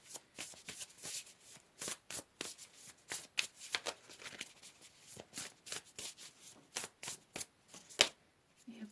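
Tarot cards are shuffled by hand in quick, repeated bursts of riffling and flicking, close and crisp in an uneven rhythm, with short pauses between runs.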